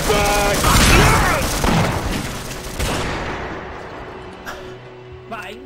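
Gunfire in the virtual-reality game Half-Life VR, a loud burst of shots and booms in the first three seconds that fades into quieter game ambience with faint voices near the end.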